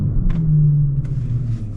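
A Mercedes-Benz CL500 W215 with a 5.0 V8 fires up in a short burst, heard from inside the car as a deep, steady low rumble with a couple of brief mechanical clicks over it.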